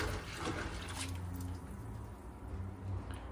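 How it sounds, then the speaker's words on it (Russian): Water runs and splashes steadily at close range, with a soft continuous gurgle and patter as dirty corn for carp bait is rinsed under it. "начинаю промывать ее проточной водой"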